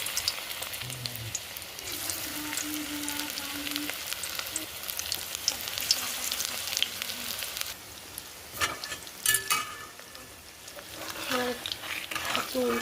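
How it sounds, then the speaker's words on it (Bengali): Chicken pakora pieces sizzle steadily in hot oil in a kadai, a continuous close crackle with occasional louder bursts and some stirring clatter. "এবারে চিকেন দিয়ে একে একে ভেজে নেব।"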